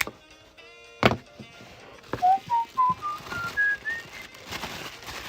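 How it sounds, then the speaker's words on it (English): A person whistles a short rising run of bright notes, loud and close to the microphone, preceded by a sharp knock and a faint tone. "Shouldn't whistle right into the microphone, should I?"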